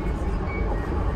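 A Class 317 electric train rides between Hackney Downs and Seven Sisters, a loud steady low rumble and rattle heard from inside the carriage.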